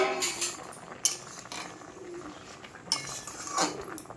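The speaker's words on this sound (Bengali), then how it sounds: "কুমড়োটা ঢাকনাটা খুলে দেখি কেমন সিদ্ধ হয়েছে।" A lid is lifted off a pot of boiling pumpkin with a few sharp metallic clinks and clatters, close and fairly quiet, over a low background of cooking noise.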